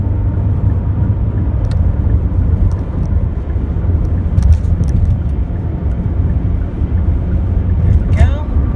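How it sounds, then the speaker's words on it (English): Steady car road noise while driving on a Texas highway, a continuous low rumble throughout with no breaks. "So sorry about the road noise or anything like that."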